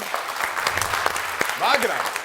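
A studio audience at a televised comedy game show breaks into brief applause, a burst of clapping mixed with a voice talking over it.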